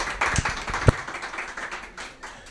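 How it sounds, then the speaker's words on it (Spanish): An audience at a book presentation applauds, a ragged spread of clapping with one sharp close clap standing out early, the sound thinning and tapering off. "por mi parte, un aplauso"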